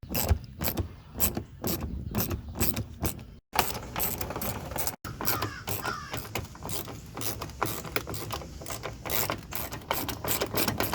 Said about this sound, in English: So let's take those bolts out.